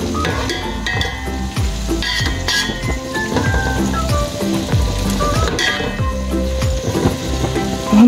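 Okra (bhindi) frying until crisp in a pan gives a steady, close sizzle and crackle with scattered light clinks, continuous throughout.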